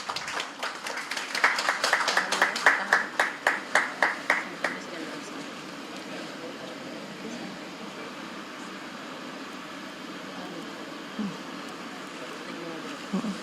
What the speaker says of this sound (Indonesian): Boleh kita berikan tepuk tangan sekali lagi?